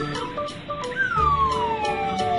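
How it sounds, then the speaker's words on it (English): A police siren wails with a sweeping tone, falling in pitch, fairly loud and unaccompanied by speech. "Police car."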